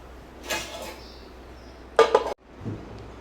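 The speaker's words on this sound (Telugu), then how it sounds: "మంచిగా కలుపుతున్నాము." A pot of sambar being stirred, with a soft scrape followed by a louder metallic clatter of a spoon against the pot, close and brief, with no talking.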